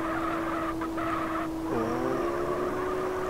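A Lexus SC300 with a manual gearbox drifts in the MTA mod for GTA on the Akina and Ebisu courses, giving a sustained tire squeal over a steady engine drone that wavers as the slide continues.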